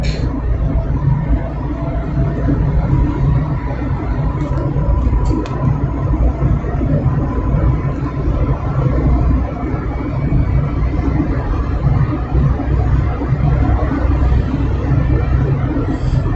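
Steady morning road traffic on Al-Wasal Road in Dubai, a continuous loud low rumble of car and bus engines with a faint background hubbub of voices, unbroken throughout.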